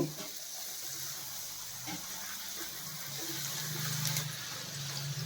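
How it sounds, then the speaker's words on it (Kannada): Puri dough for hal obbattu sizzles steadily in hot oil, a soft continuous bubbling and frying hiss close up, with faint clinks and kitchen noise beneath. "ಎಣ್ಣೆ ಬಿಸಿಯಾಗಿದೆ ಈಗ ನಾನು ಪೂರಿ ಹಾಕ್ತಾ ಇದ್ದೀನಿ"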